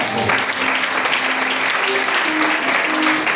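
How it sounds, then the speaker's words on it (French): A church congregation breaks into loud, sustained applause, many hands clapping together in a dense, steady roar. "Si tu es d'accord, acclame Jésus pour ça."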